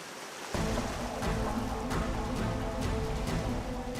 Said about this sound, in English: The divers are again forced to wait until wind and waves calm down.